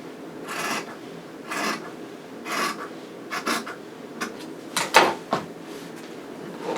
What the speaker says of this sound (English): I'm just going to go ahead and cut this little piece off so it's even